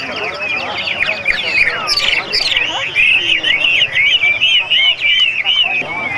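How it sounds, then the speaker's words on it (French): Birds chirp and tweet in a dense, continuous chorus at a bird market in a mountain region of northern Vietnam, loud and close, with overlapping calls and faint human voices in the background. "Plus romantique aussi, avec le marché aux oiseaux."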